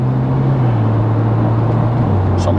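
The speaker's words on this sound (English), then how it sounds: "Guy with a Mustang revving up on me." A Ford Mustang engine rumbles nearby in a steady low drone, its pitch stepping down slightly partway through, with no talk over it.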